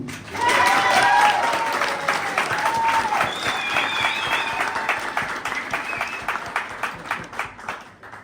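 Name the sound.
audience applause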